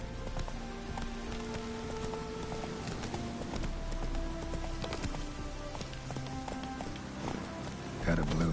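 Roach, Geralt's horse in The Witcher 3, gallops with a rapid repeating clip-clop of hooves over rain falling on the ground, with faint in-game voices.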